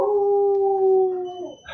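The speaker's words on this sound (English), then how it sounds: "That's my dog, sorry." A pet dog lets out a single long, clear howl that holds steady for over a second before trailing off, loud and close with no talking.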